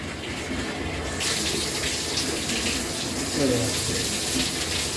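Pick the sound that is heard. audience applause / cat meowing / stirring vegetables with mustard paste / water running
water running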